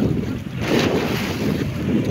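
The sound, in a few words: big ocean waves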